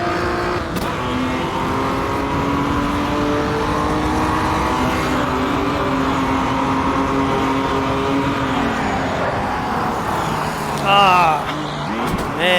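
The Puma GTB race car in Automobilista 2 revs hard in a low gear after downshifting, engine tone holding then dropping, with a brief tire squeal near the end; a voice talks over it.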